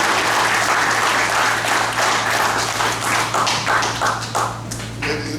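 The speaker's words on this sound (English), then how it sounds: "a round of applause for Daniel Soletti." Loud audience applause at a junior police academy graduation ceremony in Jersey City, New Jersey, many hands clapping steadily and close with a low steady hum beneath, tapering slightly toward the end.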